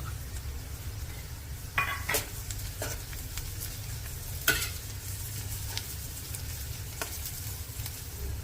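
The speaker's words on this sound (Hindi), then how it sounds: "इसमें डाल देंगे कटा हुआ अदरक और लहसुन।" Chopped ginger and garlic frying with onions in a hot pan on a medium gas flame, a steady sizzle with scattered spoon scrapes and light clinks against the pan, no one speaking.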